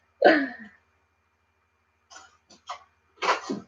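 A single sharp sneeze bursts out near the start, followed after a pause by a few short breathy sounds and a brief final burst.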